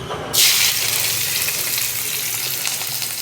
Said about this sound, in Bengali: ওই তেলেতেই আমি তরকারির জন্য, আলুর তরকারিটার জন্য পেঁয়াজটা দিয়ে দেবো